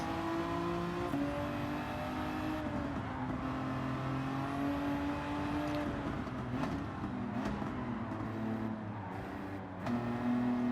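A race car engine in Gran Turismo 7 drones steadily through a corner, its pitch shifting as revs rise and fall, loud and continuous with no one talking.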